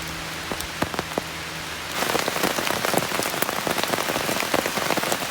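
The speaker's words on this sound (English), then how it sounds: "it's really, really raining quite heavily" Heavy rain drums steadily on a nearby surface outdoors in Fife, Scotland, and grows noticeably louder partway through, a dense patter with no voices.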